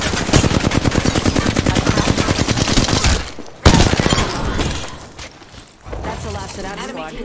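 Rapid automatic gunfire from a shooter game match in Apex Legends, dense bursts of shots crackling continuously for several seconds, a short gap, then more firing, with a player talking over the action.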